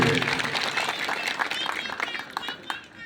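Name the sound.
crowd applauding at a road foundation ceremony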